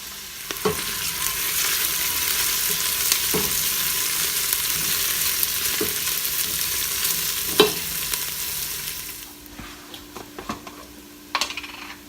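Vegetables fry and caramelize in a soup pot with a continuous hissing sizzle, broken by occasional spoon clinks against the metal, then the sizzle drops lower near the end as more stirring taps sound.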